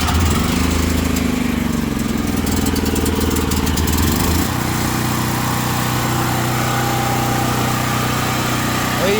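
A gas generator converted to run on propane roars loudly and steadily at wide open throttle, close by, with a pitch shift partway through before it settles into a constant drone.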